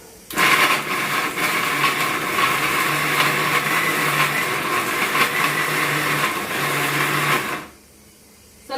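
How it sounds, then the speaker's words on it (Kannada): A mixer grinder whirs loudly and steadily at close range, grinding a large head of garlic for red chutney, then cuts off abruptly near the end and leaves a brief quiet. "ಬೆಳ್ಳುಳ್ಳಿ ಹಾಕೊಂಡು ಮಿಕ್ಸಿ ಮಾಡೋಣ"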